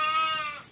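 A large farm sheep in Timiș county lets out a single sustained, fairly loud bleat nearby that fades toward the end.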